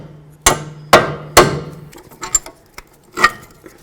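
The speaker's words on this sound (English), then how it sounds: "use our hammer and bonk these bolts out" Three loud, sharp hammer strikes knock bolts out of a Ford Edge front CV axle assembly, evenly spaced, followed by a few lighter taps and knocks.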